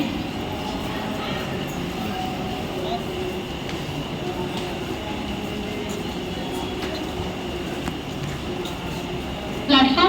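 A Mumbai Central line local train, the 7:20 slow service to Chhatrapati Shivaji Maharaj Terminus, stands at platform 2 at night with a steady rumble and hum. A station announcement and crowd chatter run under the noise.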